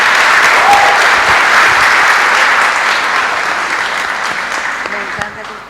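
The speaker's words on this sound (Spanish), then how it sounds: "Un aplauso, pues, para esta hermana" A church audience claps steadily for a sister welcomed onto the stage, the dense applause fading slightly toward the end.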